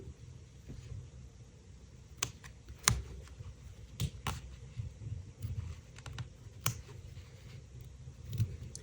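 Scissors give small crisp snips as they trim fabric around machine embroidery, a few sharp clicks spread over a quiet low hum, close and soft, with no talking.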